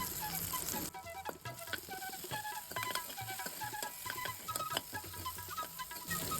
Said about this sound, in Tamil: தக்காளி கொஞ்சம் சாஃப்டாக ஆற வரைக்கும் வதக்கிக்கலாம். தக்காளி வதக்கும் போதே இஞ்சியும் இதில் சேர்த்துடலாம்.